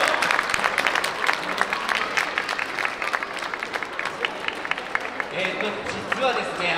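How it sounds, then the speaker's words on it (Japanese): Audience applause rises and continues steadily at an outdoor yosakoi dance event, a crowd clapping at moderate distance with a voice speaking over it toward the end. "大きな拍手でよろしくお願いいたします"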